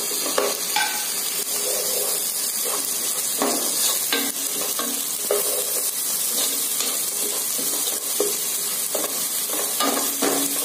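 Ginger, garlic and green chilli frying in a pan for chole, with a steady close sizzle and repeated scraping stirs throughout, no voices.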